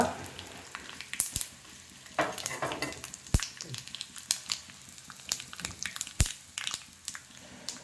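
Tempering spices crackle and sizzle in hot oil and ghee, with sharp popping bursts scattered over a steady frying hiss.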